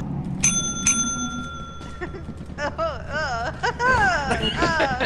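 A bicycle-style bell rings twice, bright and clear, its tone ringing on briefly. Excited voices, laughter and squealing chatter follow and overlap.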